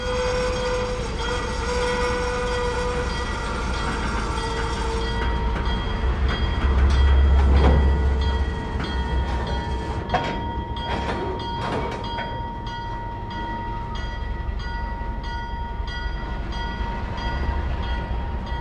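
A heavy ALCO diesel locomotive drones and rumbles steadily nearby while street running uphill, with metallic squeals and clanks from the wheels as it strains slowly forward, losing traction.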